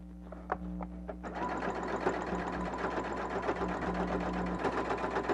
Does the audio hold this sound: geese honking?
no